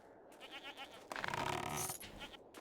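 Goats bleat in the video game Jade Empire in a quavering series, one long loud wavering cry in the middle, over quiet ambient background.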